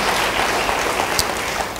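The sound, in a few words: congregation applause in church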